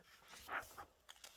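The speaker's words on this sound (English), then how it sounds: "sorry about the dogs in the background." Dogs bark in the background indoors, a few short muffled barks spaced apart over quiet room tone, fairly distant and soft.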